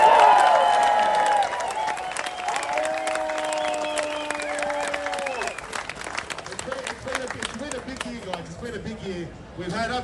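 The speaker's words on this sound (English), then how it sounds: "big cheer for all of you" A crowd at an outdoor freedom protest rally in Sydney cheers and applauds loudly at first, the noise then easing as a voice carries over the top and the clapping fades.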